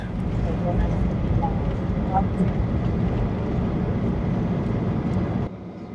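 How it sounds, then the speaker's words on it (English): Steady cabin rumble of a United Airlines airliner rolling after landing on runway 26 at Phoenix Sky Harbor, loud and continuous low roar that drops off suddenly near the end, a voice talking over it. "Today we landed on the north side of Sky Harbor International Airport on runway 26"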